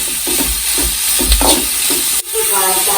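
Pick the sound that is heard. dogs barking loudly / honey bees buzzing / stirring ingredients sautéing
stirring ingredients sautéing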